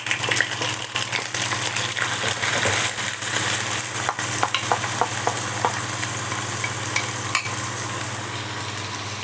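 Chicken pieces frying with onion in a spoonful of clarified butter and oil, a steady close sizzle broken by repeated scraping and clinking of a spoon stirring against the pan, with no talk.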